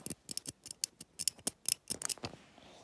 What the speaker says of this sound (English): Our sprung buffers, love that. They do make a weird sound.